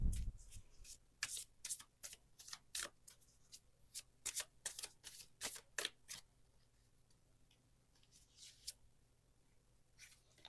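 A deck of oracle cards shuffled during a tarot reading, giving a run of quick, crisp riffles and taps in irregular bursts that thin out toward the end, quiet and close.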